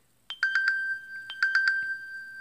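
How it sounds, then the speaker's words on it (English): Samsung Gear S3 Frontier smartwatch playing a James Bond style ringtone: two repeated bursts of bright electronic tones, each a rising note followed by three quick staccato beeps, clear and close with no talking. "that's the ringtone right there"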